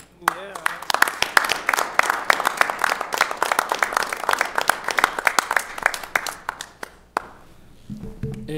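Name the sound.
round of applause at council meeting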